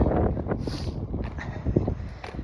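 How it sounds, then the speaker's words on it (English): Strong February wind gusts buffet the microphone outdoors on a walk home from an allotment, rumbling and roaring in uneven bursts. "It's so windy, but not raining, but the rain's coming."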